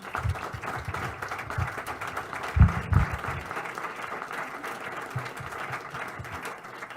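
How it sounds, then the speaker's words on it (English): An audience at a mayoral candidate forum claps for the panel, a moderate, even patter of applause with a couple of low thumps partway through. "let's give this panel a round of applause."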